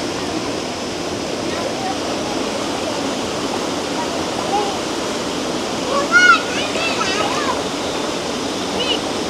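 Water rushes steadily through a mountain stream gully, a constant broad hiss and roar close by, with someone talking over it and a brief chirp near the end.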